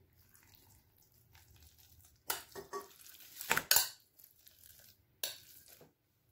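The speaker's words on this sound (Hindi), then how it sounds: "अब मैंने सारी चीज़ें एक बाउल में डाल के मिक्स करनी है।" Red chili and black pepper are mixed in a bowl, heard as a few quiet scrapes and clinks of utensil against bowl, with two sharper bursts of clatter over an otherwise near-silent background.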